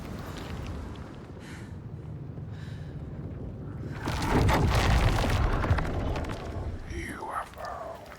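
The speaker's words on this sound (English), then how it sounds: "The rain is still going pretty hard." Heavy rain falls in the video game Senua's Saga: Hellblade II, a dense, continuous hiss that grows louder and rougher partway through, with faint voices and low rumbles mixed in.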